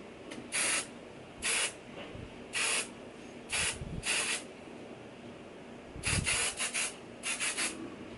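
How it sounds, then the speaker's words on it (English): Hairspray hisses onto wet, slicked-back hair in a series of short separate bursts, about seven or eight fairly quiet sprays with pauses between them. "I just kind of like run through the hairspray"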